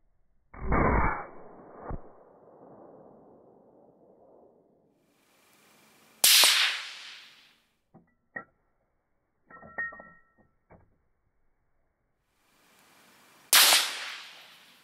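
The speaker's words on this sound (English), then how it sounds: "we're gonna put a few rounds down and see how this box is" Rifle shots fired from a truck during pest control: a sharp crack with a short decaying echo, then two more loud cracks spaced several seconds apart, with faint clicks and knocks between them.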